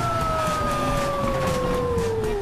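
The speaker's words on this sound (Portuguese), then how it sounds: "Liguem a sirene, alto vai tocar." A fire engine siren wails in a slow, continuous descending howl, loud and sustained over a dense background in a children's song.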